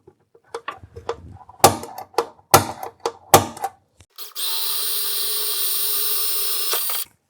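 A power drill boring a pilot hole in a Triumph Spitfire: a few short clicks and brief trigger bursts, then a sustained loud whine of steady drilling for about three seconds before stopping.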